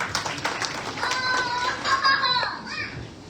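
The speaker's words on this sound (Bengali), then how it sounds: "রাজনের জন্য একটি তালি।" Applause from a gathered audience at a Mother's Day event, a short burst of scattered hand claps with children's voices and chatter mixed through it, moderately loud and fading toward the end.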